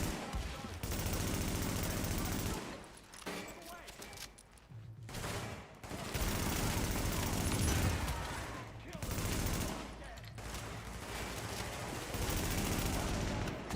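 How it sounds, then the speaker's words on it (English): Sustained gunfire in The Division 2, loud overlapping automatic bursts and rapid shots filling most of the stretch, broken by a few brief lulls. "Someone is shooting me from somewhere, I don't know."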